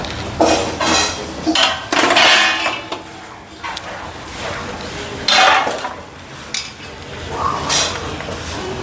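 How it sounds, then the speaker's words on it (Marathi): Jaggery is stirred into a marvana and paper-poha ladoo filling in a metal vessel, a close, loud run of scraping clinks and clanks from the spoon, arriving in uneven bursts with little pause. "आता आपल्याला या सारणामध्ये हा गूळ मिक्स करून घ्यायचा आहे"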